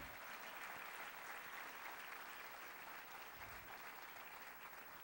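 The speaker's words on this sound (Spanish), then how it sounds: "Dale un fuerte aplauso al Señor" A church congregation applauds, a dense, steady wash of clapping that fills the whole clip at an even level with no pauses.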